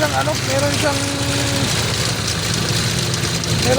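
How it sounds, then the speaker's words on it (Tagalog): A car engine idles with a steady low rumble and an irregular knocking beat just after an oil change, while a person talks briefly near the start. "Medyo umingay yung makina."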